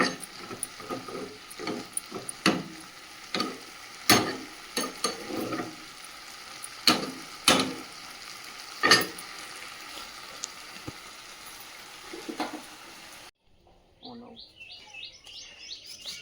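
Flowers and potato fry in a pan with an ongoing sizzle and sharp spattering pops, while birds chirp nearby; the frying cuts out near the end.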